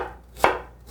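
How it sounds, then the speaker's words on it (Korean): A single crisp knife chop through a peeled pear on a cutting board while preparing kimchi seasoning, close and sharp, with no talking. "배는 껍질을 벗겨서 큼직큼직하게 썰도록 하겠습니다."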